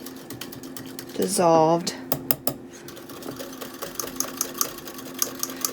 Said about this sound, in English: I have to use the whisk for this one just to make sure it's all